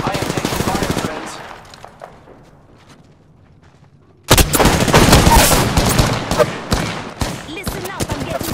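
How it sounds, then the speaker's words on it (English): Rapid automatic gunfire bursts loudly in Apex Legends, fades to a quiet lull for a few seconds, then erupts again into dense, sustained fire that continues to the end. "I am taking fire, friends."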